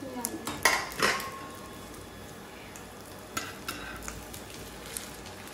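Aloo tikki frying in refined oil in a pan on a rainy day, a low sizzle under a few sharp clinks of utensils against the pan early on, then quieter frying with occasional taps.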